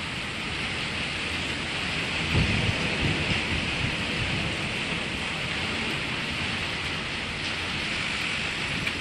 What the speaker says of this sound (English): all I can hear is thunder from the clouds and rain on the carport covers